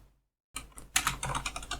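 Typing on a new computer keyboard: after a brief silence, a quick run of close, crisp key clicks and clatter carries on steadily without pause, with no voices.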